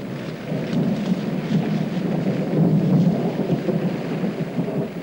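Steady heavy rain with rolling thunder rumbling continuously through a thunderstorm, a dense low roar that swells and fades for about five seconds with no voices.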